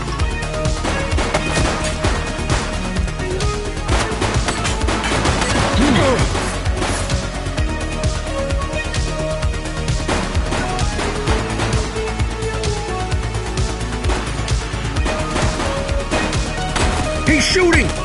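Video game gunfire in The Precinct, dense rapid shots and crashing impacts running continuously with shouted voices over a busy, loud backdrop.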